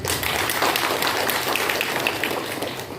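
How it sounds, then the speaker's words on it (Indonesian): Applause for an honoured guest at a BKKBN family-planning event in a village hall in Margomulyo, Bojonegoro: a steady wash of many hands clapping at moderate distance, continuous and even throughout without a break. "Tepuk tangan buat beliau"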